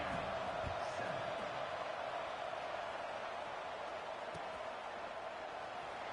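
Stadium crowd buzzing in EA Sports College Football 26, a steady, fairly faint murmuring roar with a faint thump or two, and no clear voices.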